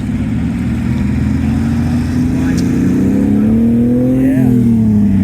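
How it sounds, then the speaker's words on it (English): A light blue metallic Porsche 911 Targa arrives at a vintage grand prix, its engine a steady low drone that swells and then drops in pitch as it pulls past. Voices talk nearby. "It's even cool to see the cars just coming in. And this one looks similar to mine coming up here. This light blue metallic Porsche 911 Targa."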